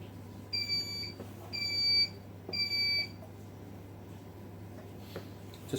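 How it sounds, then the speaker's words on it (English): Grainfather brewing system alarm sounding three short bursts of high electronic beeps over a steady low hum, fairly quiet and alone, followed by faint clicks. "Just press the set button in the middle to cancel the alarm."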